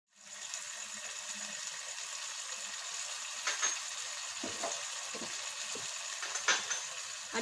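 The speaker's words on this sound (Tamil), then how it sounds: "சாஸ் எல்லாத்தையும் சேர்த்து கொஞ்ச நேரத்திலே பாஸ்தாவையும் சேர்த்து கிளறி விட்டுருங்க" Pasta with spicy sauces sizzles steadily in a pan, with a constant frying hiss and a few soft scraping stirs toward the end, close by and with no voices.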